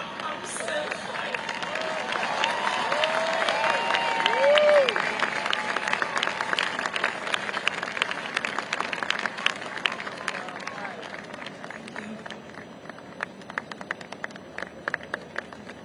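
A massive crowd at an outdoor Jewish rally in New York demanding the release of hostages held by Hamas applauds and murmurs, loud at first and then thinning into scattered claps and babble, with a voice carrying over it.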